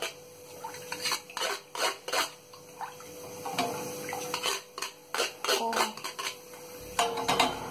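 Pieces of ginger washed in a bowl in a home kitchen give off irregular clinks, knocks and scraping rubs against the dish, with faint water sounds at close range and no speech.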